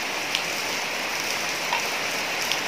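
Rain falling as a soft, continuous hiss with a few faint drop ticks scattered through it, steady and fairly quiet, with no voices.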